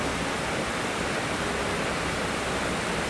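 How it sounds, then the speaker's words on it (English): Heavy rain pours down on a farm during the fall corn harvest, a dense, constant hiss that stays loud and even throughout with no voices. "Pouring down rain again."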